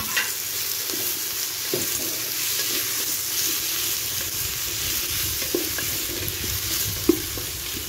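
Shrimp fry in a hot pan with a constant, fairly loud sizzle, punctuated by scattered stirring scrapes and one sharp clack near the end.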